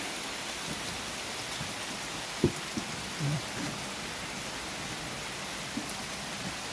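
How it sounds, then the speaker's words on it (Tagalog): Heavy rain falls steadily in a hushed, even wash outdoors near a house and garden, with a couple of faint thumps and knocks under it and no talk. "lakas ng ulan"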